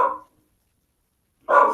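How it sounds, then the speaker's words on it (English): A pet dog barks twice indoors during a remote video call, each bark short and fairly close, separated by a long silent gap. "Apologies, that's my dog."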